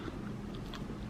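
Edible cloud slime candy that smells of fruity cereal is bitten and chewed close up, giving soft, squishy crunching over a steady low background.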